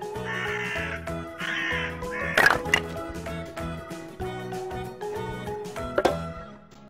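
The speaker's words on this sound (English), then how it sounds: "Crow." A crow caws several times in short harsh bursts, clear and fairly close, set over a bouncy looping musical backing with a couple of sharp knocks partway through.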